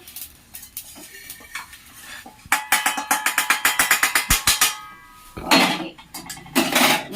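Fried eggplant scraped and tipped from a metal pan onto a plate, a quick run of loud, rhythmic clanks and scrapes of utensil against pan, then a few heavier bumps close by with no talk.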